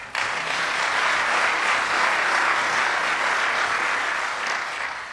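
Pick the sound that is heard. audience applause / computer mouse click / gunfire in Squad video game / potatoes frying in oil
audience applause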